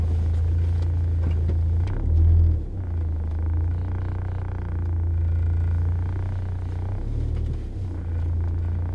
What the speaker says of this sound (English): the car drives really pretty well